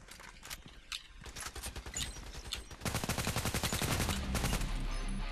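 Rapid bursts of automatic gunfire from the online shooter Contract Wars, sparse single shots at first, then dense sustained fire, loud and close.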